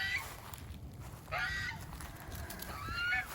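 Farm geese honking in a flock, several loud, nasal calls in bursts close by, with short gaps between them and some low background noise.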